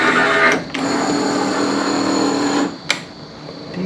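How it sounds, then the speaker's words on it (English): The power window motor of a right-hand-drive Mazda RX-7 FC3S Turbo II gives a steady, close electric whir for about two seconds, then stops, followed by a sharp click. "But now we got our new power window switch."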